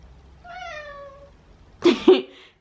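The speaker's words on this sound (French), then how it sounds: "Quand il fait ce miaulement, c'est qu'il veut à manger." A cat gives a drawn-out meow, then a couple of sharper, louder cries close by, with quiet surroundings and no talking.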